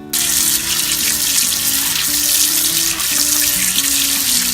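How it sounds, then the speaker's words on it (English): Running tap water pours steadily over a razor clam being rinsed in a sink, a continuous bright splashing rush that holds unbroken from start to finish, close and fairly loud. "Rinsing this out, not waste all the water."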